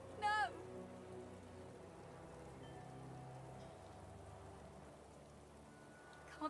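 Blood Rain spell from the video game Divinity Original Sin 2: a steady, even rain hiss runs through the whole stretch, with a brief louder burst at the start.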